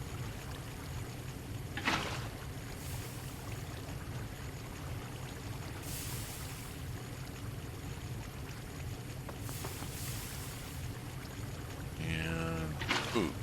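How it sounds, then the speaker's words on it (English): Flowing water placed in a Minecraft world, a steady soft trickling wash running the whole way, with a few brief splashy bursts and a louder gurgle near the end. "Oh, let us create more water here."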